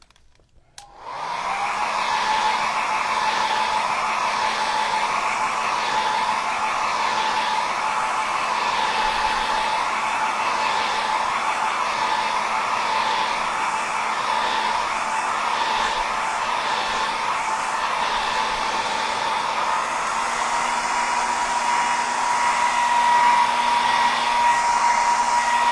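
A hair dryer switches on and runs with a steady, close, loud whirring hum while it dries paint, holding constant for about twenty-five seconds with a slight rise near the end.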